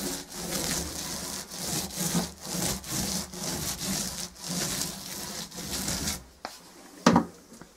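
A paint roller rolls paint onto previously brush-painted timber, making a loud, close, rhythmic rasping swish in repeated strokes, ending with a pause and a sharp knock.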